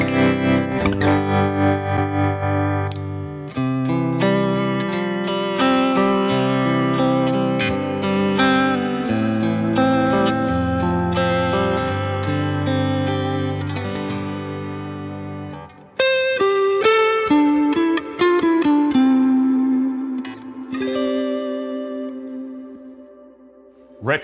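An electric guitar plays chords through a pulsing tremolo effect, the volume wavering rhythmically, with a brief break and a few sharper notes toward the end.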